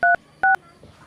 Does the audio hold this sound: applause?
no